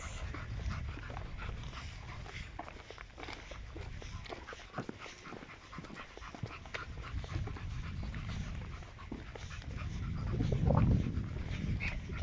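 A dog on a lead pants steadily through a normal walk, with soft breathing and faint footsteps running throughout and the panting growing a little louder near the end; no one speaks.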